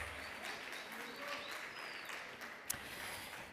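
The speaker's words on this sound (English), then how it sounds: "Another round of applause, please" Applause at a student leadership awards evening, a faint, steady patter of many hands clapping from a distance with one sharp crack near the end.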